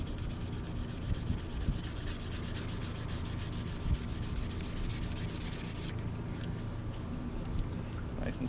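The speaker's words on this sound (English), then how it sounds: "This is just to sand those out." A custom fishing rod blank being hand sanded, steady rapid scratchy rubbing strokes in an even rhythm, close and fairly quiet, ending in a lighter, slower scrape.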